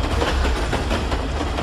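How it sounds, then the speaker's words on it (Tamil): A train rolling past near a rail bridge, a loud, continuous rumble with a faint rhythmic clatter over the short stretch. "அவன் இருக்கிற இடம் ஏதோ ரயில் சத்தம் கேக்குது"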